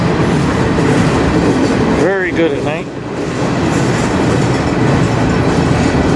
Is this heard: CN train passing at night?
yes